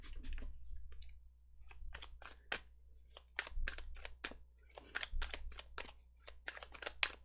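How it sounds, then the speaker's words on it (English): Tarot cards being shuffled by hand, giving a run of sharp, irregular riffling clicks and snaps at close range over a low steady hum, with no talking. "If I can shuffle, geez, this is like the worst shuffling I've ever done."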